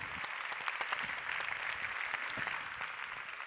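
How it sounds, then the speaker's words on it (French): Audience applause at a women's business forum, a steady wash of many hands clapping at moderate distance, even and sustained without voices. "c'est vrai qu'on peut l'applaudir"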